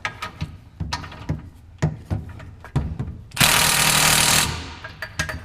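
Impact wrench tightening a bolt during an LS swap on a Porsche 944, one loud sustained burst of about a second, set between repeated sharp clanking knocks of tools against metal.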